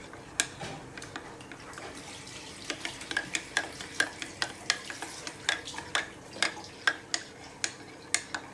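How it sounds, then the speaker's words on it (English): Custard powder and milk being stirred into a smooth paste, a spoon tapping and scraping against the bowl in a steady rhythmic series of sharp clicks over a quiet background. "So I need to just stir it and make it into a smooth paste."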